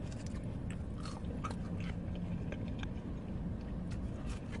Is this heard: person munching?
yes